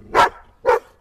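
An African wild dog at the Sigean zoo gives two short, loud, gruff barking grumbles about half a second apart, close by, in November 2011.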